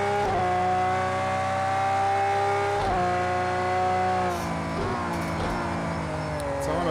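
Lamborghini Veneno in Project CARS 2 accelerating hard on hot, sliding tyres: a loud, continuous engine howl climbs through the gears with brief dips at shifts, while tyre squeal and skidding run beneath it, with no talk.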